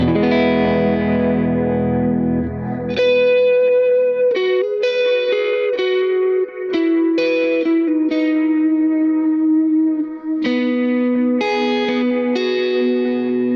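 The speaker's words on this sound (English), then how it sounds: "Got that nice full reverb tone to it" An electric guitar played through an HX Stomp with Halo delay and a full reverb rings out in sustained chords and picked single notes, each trailing a long, lush wash of echo, alone and clear.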